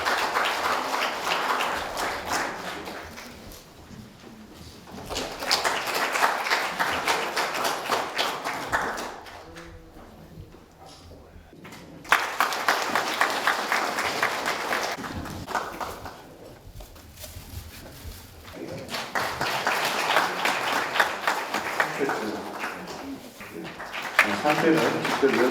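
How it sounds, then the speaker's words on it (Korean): Seminar audience clapping in several sustained bursts separated by brief lulls, a hall full of hands rising and fading, with a voice speaking in between. "네, 큰 박수 부탁드리겠습니다."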